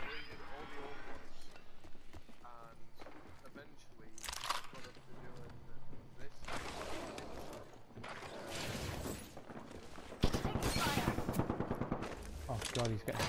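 Repeated bursts of automatic gunfire crackle through an Apex Legends match, some near and some farther off, while players talk over the shooting.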